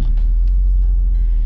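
Honda City (Cielo) car being driven, heard from inside the cabin as a loud, steady low engine hum and rumble with no talking.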